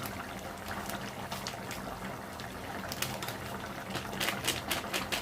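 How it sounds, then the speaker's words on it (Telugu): Country chicken curry simmers in a pot just uncovered, giving a continuous close crackle of small bubbles popping in quick, irregular ticks that grow a little louder toward the end. "చూడండి మంచిగా ఉడుకుతుంది కదా."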